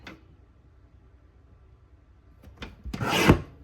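A paper trimmer cutting a sheet of floral patterned paper in half; faint taps and handling lead into a short, louder scraping slice near the end, with no speech.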